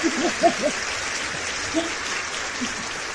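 Audience applause greeting a guest speaker at a talk on writing and publishing: a brief burst of clapping with a few louder individual claps near the start, easing into a sparse, thin patter.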